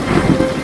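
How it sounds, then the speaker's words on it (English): Steady rain falls on a wet October fall day, a continuous close hiss of drops on surfaces with no pauses through the brief moment. "It's a rainy fall day."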